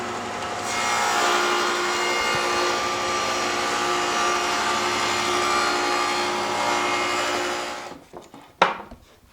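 A power tool cuts shoulders into wooden truck bed boards, a loud continuous whining, rasping cut lasting several seconds before stopping abruptly, followed by a few brief clunks and a sharp knock.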